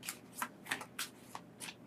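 Tarot cards shuffled by hand in a few quick riffling bursts, about six short papery rustles in under two seconds, close and fairly quiet, with no talking.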